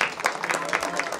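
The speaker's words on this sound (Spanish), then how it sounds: "y nada, un aplauso para ustedes, ¿eh?" Applause at a baptism celebration in Pomata, Peru: a small crowd claps in quick, uneven bursts, moderately loud and close, with voices mixed in among the clapping.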